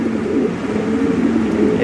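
A pair of Lahori Sirazi pigeons, a breeding pair, coos steadily and close at hand, a low continuous murmuring burble with no talk over it.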